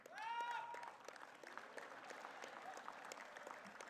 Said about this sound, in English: Your voice is louder than your claps